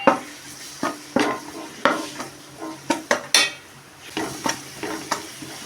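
Garlic fries in a pan for rasam while a spoon stirs it, making repeated close scrapes and clacks in an uneven rhythm over a steady sizzle.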